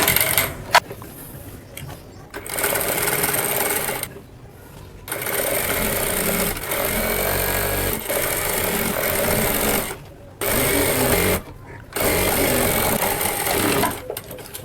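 An electric sewing machine stitches a cotton A-line kurti collar in several loud, steady whirring runs of a few seconds each, split by short silent pauses.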